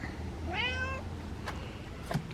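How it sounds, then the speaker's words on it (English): A single clear meow from a nearby cat, rising then falling, followed by faint household clatter in a quiet room. "Well, Morris is meowing at me too."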